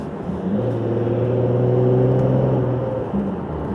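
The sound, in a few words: car catback exhaust while driving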